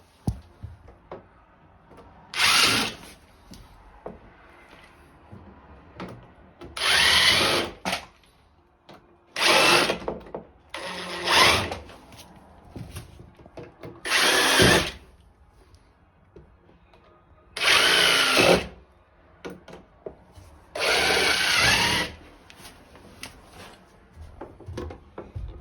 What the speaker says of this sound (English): So we're going to drill 3/16 pilot holes in each spot where it's going to finish the stud.